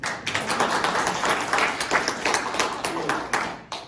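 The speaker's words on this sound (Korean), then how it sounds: "그럼 한번 박수 한번." An audience at a Seoul National University alumni association gathering claps steadily and densely for several seconds, with voices audible beneath the applause.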